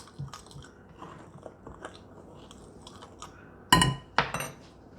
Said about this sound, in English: So I'm going to go ahead and mix this up real quick together.